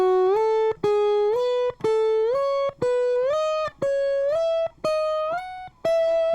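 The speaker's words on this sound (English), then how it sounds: "we're going to learn a pattern called playing the scale in thirds" A sliding guitar plays a stepwise pattern of paired notes, each pair gliding up into the next, with short gaps between phrases.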